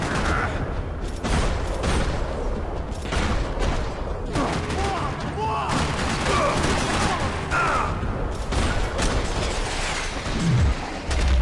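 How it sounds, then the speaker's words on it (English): Gunfire rattles through a parking lot in the video game Max Payne 3, with dense, loud bursts of shots and fusillades, mechanical clatter and a deep boom near the end. "Another parking lot rattling with gunfire."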